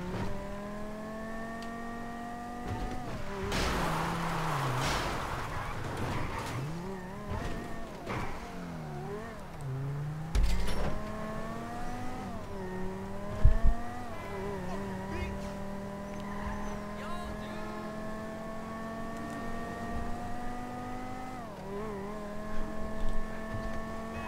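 A video-game car runs at full throttle, its engine droning and rising in pitch through several rev climbs and shifts, with brief thumps and tire noise mixed in.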